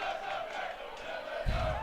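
A football crowd at a university men's championship final between Nottingham and Loughborough rises in a broad, swelling roar as a long throw-in is taken, with a low thud near the end.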